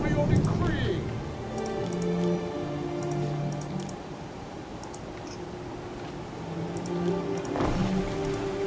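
Steady rain patter in the Roman city-building game Anno 117: Pax Romana, a soft continuous wash of drops under tonal game sounds, with a voice talking over it.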